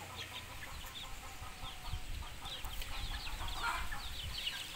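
Chickens cluck and chirp continuously in a farmyard, a busy overlapping chatter of many birds at moderate distance over a low background rumble.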